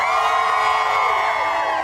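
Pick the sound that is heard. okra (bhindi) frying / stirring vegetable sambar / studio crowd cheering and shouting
studio crowd cheering and shouting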